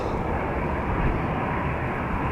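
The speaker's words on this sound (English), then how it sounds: "the EasyJet A319, was it? Yeah, to Prague, coming this way" An EasyJet Airbus A319 airliner on approach at Amsterdam Schiphol, a steady broad engine roar that holds constant and loud throughout, with no voices.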